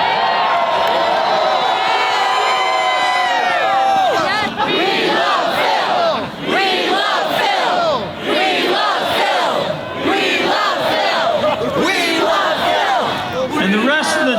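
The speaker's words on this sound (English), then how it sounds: "This is the largest midweek crowd in the history of" A large festival crowd at Groundhog Day in Punxsutawney, Pennsylvania, roars and whoops together, loud and sustained, with overlapping yells and shouting voices swelling in waves.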